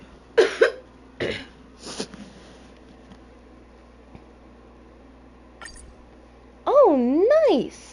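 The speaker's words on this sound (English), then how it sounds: "don't be surprised if I start coughing a lot" A few sharp, separate coughs close to the mic from a person playing a game, spaced out across quiet stretches, followed later by a voice speaking.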